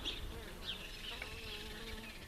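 Dense, steady buzzing of many honey bees hovering close around an opened top bar hive during an inspection, a continuous drone with no talking.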